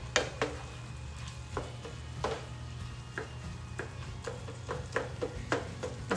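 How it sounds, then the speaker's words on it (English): Garlic, sausage and onions sizzle steadily in a pan while a utensil scrapes and taps against it at irregular intervals, close and clear. "Let it finish cooking with the meat and the onions"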